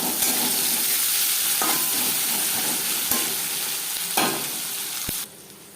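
Chopped onion and crushed garlic going into oil with a fish head for a Bengali pui shaak ghonto, a loud continuous sizzle broken by a few sharp utensil knocks, fading quieter at the end.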